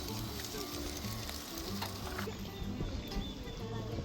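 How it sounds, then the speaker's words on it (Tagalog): Steady crackling sizzle of food frying in a pan at a campsite, continuous and fairly close, with faint voices and background noise mixed in. "Wow, ang bilis na prito ah"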